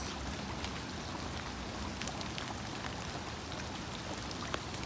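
Steady patter of raindrops with a continuous wash of flowing water, even and unbroken throughout, with occasional brighter drips standing out.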